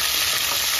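Bay leaf, cinnamon, cardamom and garlic fry in hot oil, giving a loud, dense, continuous sizzle and crackle with no talking.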